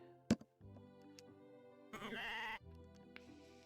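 Sheep bleating in the farming video game Story of Seasons: A Wonderful Life: a sharp click, then drawn-out wavering bleats at moderate volume, one louder cry in the middle, alone without talk.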